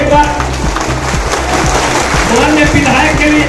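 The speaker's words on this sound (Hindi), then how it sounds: "माननीय विधायक के लिए, माननीय मंत्री जी के लिए जोरदार ताली लगा।" Crowd applause for a minister at a public welcome event, a dense steady patter of many hands clapping loudly throughout, with voices mixed in underneath.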